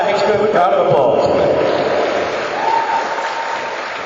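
Audience applause from the crowd at a Game of Thrones panel at London Film and Comic Con, a steady dense clapping that holds loud throughout and eases slightly toward the end.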